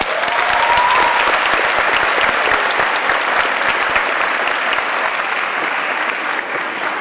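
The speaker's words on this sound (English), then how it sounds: "can you please help me give a round of applause to these individuals?" Loud, dense audience applause at the Hillcrest High School class of 2017 graduation ceremony, a steady wash of clapping hands with a few whoops that holds for several seconds and eases slightly at the end.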